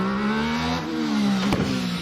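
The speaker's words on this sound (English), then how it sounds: "great sound from the engine of that car" A race car engine revs hard and accelerates up the Loton Park hillclimb course during a Midland Hillclimb Championship run. The rising note is loud and close, with a sharp clattering burst near the end.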